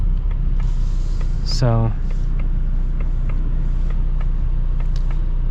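A 2024 Ford Mustang EcoBoost with a 2.3-litre four-cylinder engine gives a low, steady cabin rumble while driving, with a brief sweeping chirp near the start and someone talking over it.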